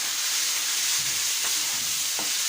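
Chicken pieces frying in a pan for restaurant-style ginger chicken, giving a steady, close, bright sizzle with occasional soft scrapes and knocks of a spoon stirring the meat.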